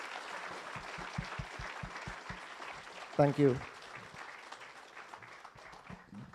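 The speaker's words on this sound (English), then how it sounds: "Can we have a big round of applause for all the children, please?" Audience applause for children at an award ceremony rises to a burst of clapping and cheering near the middle, with a presenter speaking over the room before and after.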